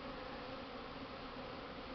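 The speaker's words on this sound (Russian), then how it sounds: "И теперь эти пчелы более-менее спокойные." Honeybees swarm around an open hive on a warm spring day in a steady, dense buzz that holds at an even level throughout, with no voices over it.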